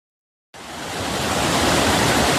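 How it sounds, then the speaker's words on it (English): Millions of gallons of water rush over the Gorge Dam on the Cuyahoga River, a loud, dense, steady roar that cuts in abruptly after half a second of silence and keeps building. "millions of gallons of water rushing over the Gorge Dam"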